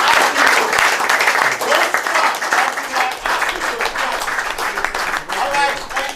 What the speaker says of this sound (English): let's put our hands together for ProStar and NNL